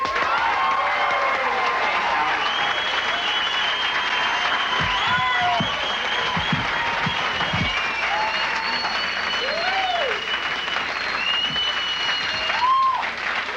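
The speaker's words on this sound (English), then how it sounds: "kind of get kind of a clapping noise going" Sustained applause and cheering from a television comedy show audience welcoming a comedian onstage, a steady dense roar of clapping with shouts and whistles running the whole time before fading slightly near the end.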